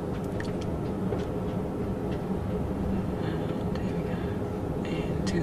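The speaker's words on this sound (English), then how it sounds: "Pulling out of Euston, bang on time." Inverness sleeper train pulling out of London Euston station, a steady low rumble of wheels and carriage noise heard from inside, continuous and moderately loud with faint clicks and knocks.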